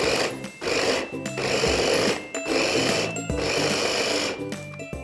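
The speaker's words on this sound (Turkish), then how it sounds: "Rondomu prizime taktım ve kırmızı biberi güzelce çekiyorum." An electric food processor chopping red peppers whirs loudly and close in pulsed bursts, its motor starting and stopping several times with brief pauses between runs.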